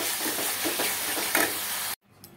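Whole spices sizzling in hot tempering oil in a home kitchen, a dense close crackle with a few louder pops, cutting off abruptly to near silence.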